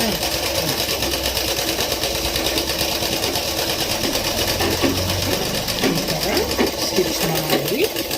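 A sewing machine stitches cloth, its motor running in a steady, close, continuous whir with a fast mechanical chatter throughout.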